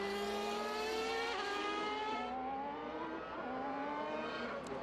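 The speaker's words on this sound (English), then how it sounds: "Mika driving that, I think the 1990 MP4 5B one that Alain Prost drove." A 1990 McLaren MP4/5B Formula One car drives past at a track event, its high-pitched engine wailing steadily with shifting pitch sweeps, loud and continuous without any voices.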